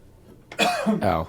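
Two rough coughs in quick succession, close and fairly loud, the second slightly shorter than the first.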